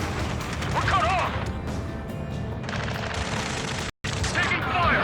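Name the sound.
gunfire in the Ace Combat 7 video game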